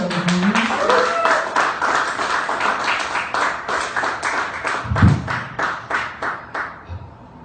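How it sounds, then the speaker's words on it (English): Audience at a stand-up comedy show clapping and applauding as a comedian takes the stage, a dense burst of claps that thins into a few scattered hand claps, with a host's voice heard at first. "Round of applause, everybody."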